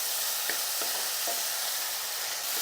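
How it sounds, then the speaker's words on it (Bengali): Steady, even sizzle of onion, ginger and garlic frying in oil, with a few faint scrapes of a utensil now and then. "এবার আমি পেঁয়াজ আদা রসুন খুব ভালো করে ভেজে নেব"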